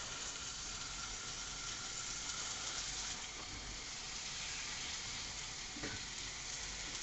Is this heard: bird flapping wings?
no